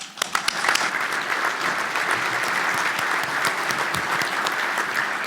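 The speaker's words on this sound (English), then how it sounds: "please welcome Executive Director Dylan Mullinex with a warm round of applause" A conference audience at a commercial real estate forum applauds to welcome an executive director to the stage: dense, steady clapping that begins with a few sharp claps and fills the room evenly for the whole stretch.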